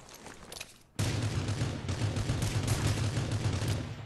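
A burst of loud gunfire erupts in the battle royale game Rules of Survival, a sudden dense barrage of rapid shots that continues steadily after a quieter opening moment.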